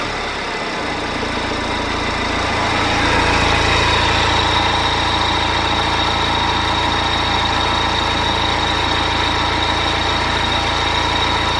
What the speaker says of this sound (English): let's fire the engine up to see if we can try and emulate the squeak